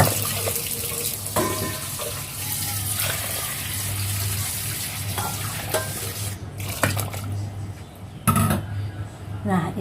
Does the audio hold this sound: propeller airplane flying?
no